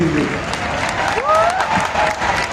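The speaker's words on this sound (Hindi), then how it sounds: "इसमें तो बच्चों की तालियां सबसे ज्यादा होनी चाहिए।" Students applaud at a forensic science university event, a sustained wash of clapping across the whole moment with a few brief tonal sounds and voices mixed in.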